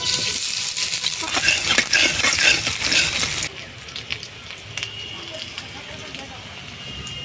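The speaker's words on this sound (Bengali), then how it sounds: "দিয়ে দিচ্ছি কড়াইতে আবারও সরষে তেল। তেল গরম হয়ে গেছে, দিয়ে দিচ্ছি পেঁয়াজ কুচি" Chopped onion hits hot mustard oil in a wok, giving a loud, bright sizzle for the first few seconds before it settles into a quieter, steady crackle.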